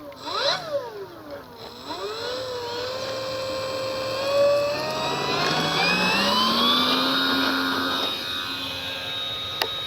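A Dynam F6F Hellcat RC warbird spools up for a no-flaps takeoff, its electric motor and prop whining steadily and rising in pitch as it accelerates and climbs away, loud and continuous for the whole stretch.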